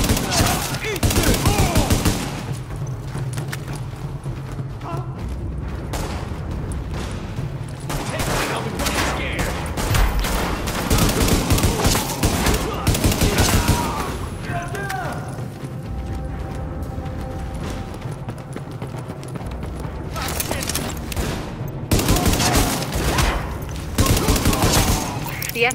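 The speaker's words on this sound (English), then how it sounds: "The escort party's taking heavy fire from the roof." Heavy gunfire from a rooftop in The Division, dense sustained bursts of automatic fire and booming shots that pile up over nearly half a minute, loud and close, with brief gaps and occasional game voices underneath.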